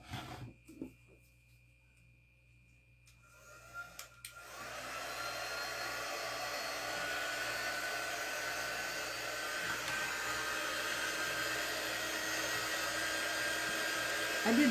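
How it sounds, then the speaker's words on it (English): After a few quiet seconds of small handling noises, a hair dryer switches on and blows steadily, a constant whooshing drone. "let me take a dryer to this for a little bit"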